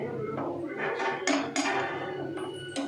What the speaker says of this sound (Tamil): கொத்தமல்லி போட்டு நல்லா கிண்டிக்கலாம்.